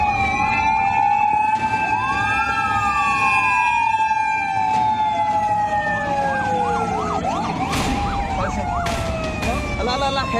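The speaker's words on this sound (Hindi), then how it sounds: "रहीम यार खान में जब रात के वक्त एम्बुलेंस और सायरन सुनाई दिया" An emergency siren wails and sweeps up and down at night in Rahim Yar Khan, loud and close, shifting into rapid yelping pulses near the end, with faint background noise beneath.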